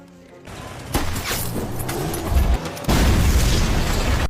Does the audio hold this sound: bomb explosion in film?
yes